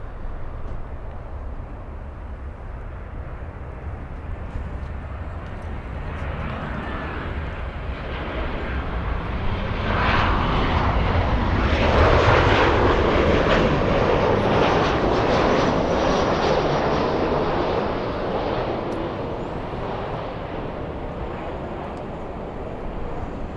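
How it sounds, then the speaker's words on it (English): A Cessna light aircraft taxis up and parks right beside the microphone during plane spotting at Los Angeles airport. Its engine makes a loud, steady close drone that swells to a peak mid-way and then eases slightly, with no talking. "Captain Cessna parking right next to my microphone"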